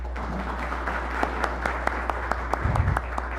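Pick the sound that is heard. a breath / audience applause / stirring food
audience applause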